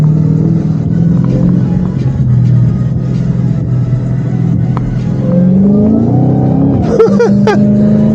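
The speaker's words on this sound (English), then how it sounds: "compared to being in a Civic all week, I forgot how fast my Hellcat is" A 717-horsepower Dodge Hellcat accelerates while merging onto a freeway, with a loud continuous engine rumble that climbs in pitch toward the end as the car picks up speed.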